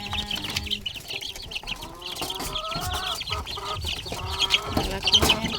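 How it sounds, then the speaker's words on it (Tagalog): Young chicks and grown chickens cluck and chirp close by in a farmyard, with overlapping, busy calls and occasional louder squawks throughout. "Yung mga sisiw natin, friendship,"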